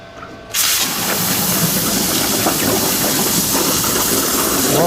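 CNC plasma table cutting steel anchor plates, a loud steady hiss with a roaring torch that starts abruptly after a brief quieter moment and holds on continuously.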